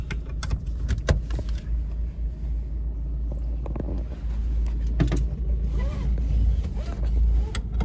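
A 1998 Toyota Corolla II drives on the highway, a steady loud low engine and road roar with wind rush and occasional sharp clicks and knocks inside the cabin.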